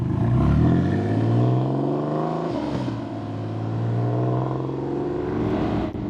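A TVR Tuscan sports car engine revs loudly and pulls away, a rising throaty roar with a gear change midway, close and continuous, with no voices.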